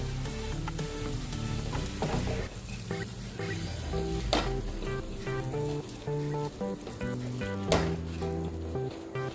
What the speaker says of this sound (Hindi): अब इसमें हम चावल डालेंगे, अच्छे से मिक्स कर लेंगे।